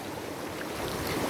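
An auto-rickshaw fords a shallow stream, water sloshing and rushing continuously around it in a steady wash that grows slightly louder toward the end.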